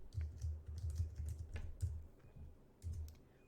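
Keys clatter on a computer keyboard in quick bursts of close, crisp taps, pausing briefly before a final short run, with no talking.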